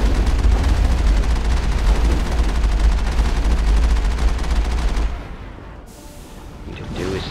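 Sustained gunfire salvo from a Mass Effect battle against Geth bases, dense rapid shots and booms filling the first five seconds loudly, then dropping away to quieter ambience with faint talk.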